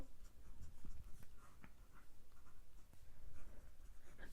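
Pen strokes scratch across paper while math is written out, a quiet run of close, uneven scribbling and short taps, continuous and alone.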